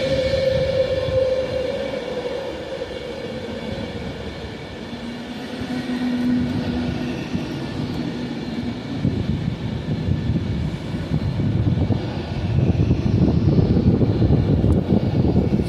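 A Pendolino passenger train passes near Rugby, a loud sustained rumble and whine that swells and roughens as the train goes by, with no voices.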